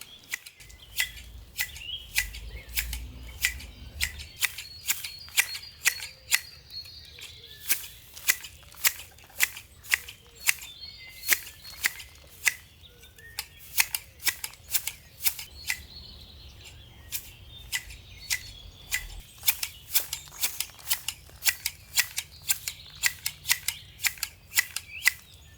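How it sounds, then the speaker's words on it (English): Garden shears clip a box topiary dome in an outdoor garden, a long run of crisp, rapid snipping blades in bursts and pauses, close and clear, with faint birdsong in the background. "I find the top of the box easiest to cut with the shears the right side up"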